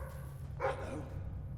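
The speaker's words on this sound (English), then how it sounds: "Sounds like the dog's found something." A dog in the video game Fable 3 gives a single short bark partway through, heard over a low, steady ambient hum from the game world.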